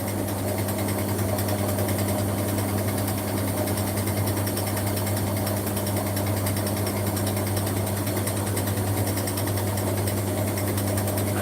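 Beko Daily 60 washing machine running with shock absorbers fitted, giving off a constant mechanical hum and whir that stays loud and steady throughout, with no talk.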